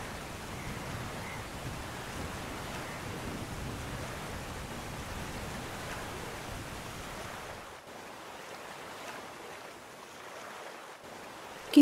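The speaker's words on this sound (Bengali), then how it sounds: "হঠাৎ করে ঝড় বৃষ্টির দাপট বাড়ে, নদীর জল উত্তাল হয়ে ওঠে" A storm with driving rain and rough, churning river water in a Bengali horror cartoon about a boat crossing. It is a steady, dense roar of wind and water that runs unbroken, then eases and thins near the end.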